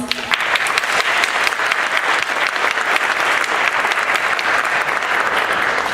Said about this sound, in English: Let's extend to them a round of applause.